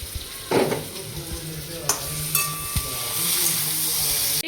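Ginger and tomato paste with green chilies sautéing in a pan: continuous sizzle broken by spatula knocks and scrapes, swelling into a louder, brighter hiss toward the end, with no speech.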